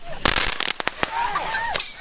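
Fireworks go off close by during side-by-side racing fun, a burst of sharp crackling pops and bangs with whistling streaks, loud and rapid, mixed with voices nearby.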